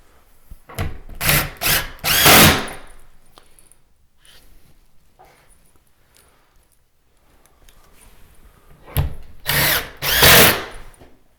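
Power drill driving screws into a closet board, two loud bursts of whirring with short gaps at the start and again near the end, separated by a long quiet stretch.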